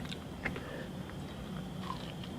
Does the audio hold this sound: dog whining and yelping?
no